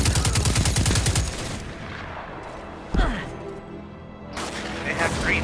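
Destiny 2 gunfire rattles as a rapid automatic burst for about a second and a half, followed by a single sharp blast and more distant game noise, with someone talking over it.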